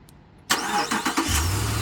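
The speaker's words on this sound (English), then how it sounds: "So we'll go ahead and start the vehicle." A 2022 Ram 1500 Classic Warlock 4WD with a 5.7L HEMI V8 cranks and fires abruptly after a quiet moment, then settles into a steady, deep idle close by.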